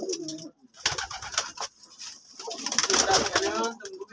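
Racer pigeons coo in soft, throaty bursts close by, repeating over a few seconds with brief pauses and faint voices in the background.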